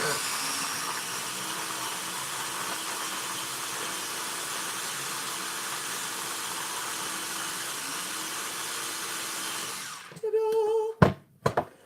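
A blender whirring through maple walnut bacon butter, a steady droning motor for about ten seconds that cuts off abruptly, followed by a few clunks and a short spoken remark.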